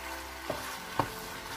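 Minced bolognese meat is stirred in a pot over a soft steady sizzle, with two distinct scraping knocks of the spoon about half a second apart.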